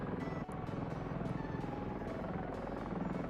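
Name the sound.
attack helicopter hovering in a Godot 4 video game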